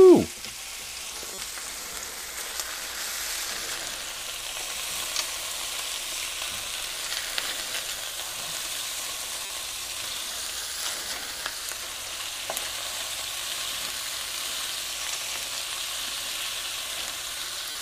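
Meatballs fry in a pan with a steady, close, hissing sizzle that carries on throughout, with a few faint clicks and stirring touches and no talk.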